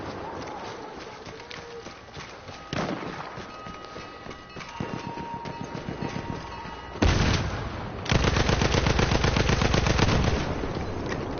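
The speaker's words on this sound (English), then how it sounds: "there should be more bass to the sound of the guns" Battlefield 1 gunfire with scattered shots and a sustained rapid burst toward the end, layered over busy game sounds and effects.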